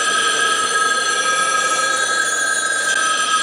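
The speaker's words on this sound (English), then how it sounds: "Charlton Heston thinking all the phones are ringing in Omega Man" A continuous loud old-fashioned telephone bell rings steadily and unbroken in a scene from the film The Omega Man, with no speech.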